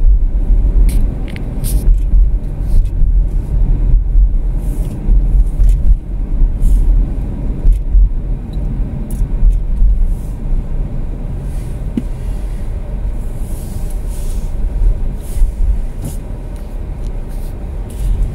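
Car driving on a road in Heartland, Mississauga, heard from inside as a steady low engine and tyre rumble, with faint clicks and bumps over about eighteen seconds.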